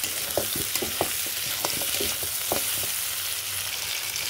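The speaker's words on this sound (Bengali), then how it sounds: "দিয়ে একটু ভাজা ভাজা করে নেব আলুর সাথে" Potatoes fry with meat in a pan with a steady sizzle, broken by scraping clicks of stirring; no one speaks.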